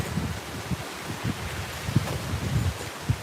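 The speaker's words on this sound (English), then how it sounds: "That was probably a 30-mile-an-hour gust right there." Strong east wind gusting hard outdoors, around 30 mph, sounding as repeated bursts of rough rustling and buffeting that rise and fall every half second or so, with no talking.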